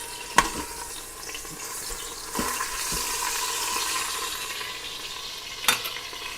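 Sirloin steak sears in an Instant Pot on the sauté setting, a steady close sizzle with a few sharp clicks and bumps from the pan and utensils, no talking.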